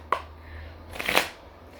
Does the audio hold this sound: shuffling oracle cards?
yes